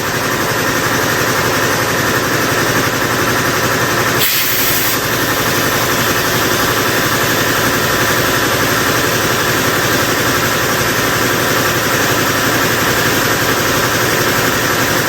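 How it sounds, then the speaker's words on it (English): Air compressor hose blowing into a Volkswagen Beetle tire with the valve stem removed to reseat the bead, a steady loud broadband rush running continuously throughout, with a brief burst partway through. "with your valve stem out, you just use the open end of the air compressor"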